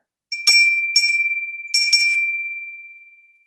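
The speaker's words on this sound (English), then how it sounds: "listen to the sound of this bell." A meditation bell is struck in a quiet room, its bright, pure tone ringing out alone and decaying slowly, with a few soft overlapping strikes near the start before one long fade.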